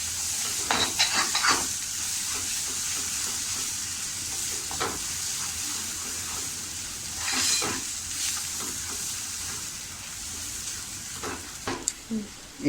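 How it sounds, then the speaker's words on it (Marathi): Soya chunk masala sautéing in oil over medium flame gives a steady, close sizzle and hiss, broken by a few sharp spoon scrapes and stirring clatters against the pan, with no voice. "छान असं ह्याच्यामध्ये तेल सुटेपर्यंत परतून घ्यायचं आहे"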